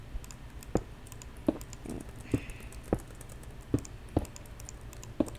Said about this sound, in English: I think probably all they can hear is you going on your keyboard right now